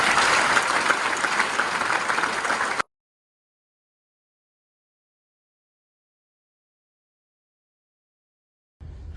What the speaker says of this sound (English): Big round of applause for Cameron